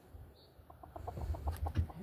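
Hens clucking as they come out of their coop, a run of soft, low, closely spaced clucks that grows a little louder, faint and close against quiet background.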